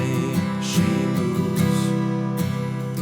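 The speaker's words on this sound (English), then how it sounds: "I'm just going to start right off by playing the first 4 chords and singing the melody." The opening chords of a song ring out in a sustained, close harmonic progression, with a smooth, connected flow and no talking over it.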